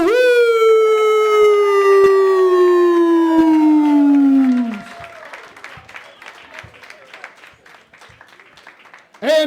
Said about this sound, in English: Make some noise for Elliot, Jarrous